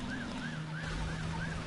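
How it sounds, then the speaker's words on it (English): A police siren wails far off in the background, rising and falling in a slow regular cycle beneath steady wind-like noise, with no talking. "There's a police siren in the background"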